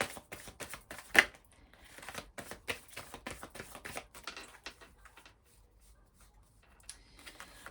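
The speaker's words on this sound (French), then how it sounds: "On va prendre quelques cartes des arcanes mineurs de l'oracle de Laura" Oracle cards of the minor arcana being shuffled and handled up close, a quick run of soft clicking, riffling card flicks with uneven rhythm and one sharper snap near the start, no voices.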